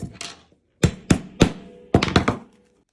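A hammer taps lightly on an anvil in a close, clear series of seven short, sharp knocks, spaced irregularly, with two quick taps, a pause, then a faster cluster near the end.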